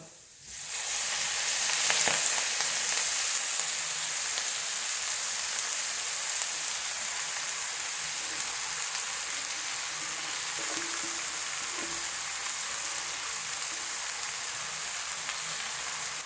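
Chopped yam leaves hit a hot pan with onion for Kerala thoran, setting off a bright, even hiss of frying that holds steady for the whole stretch with faint stirring, no one talking.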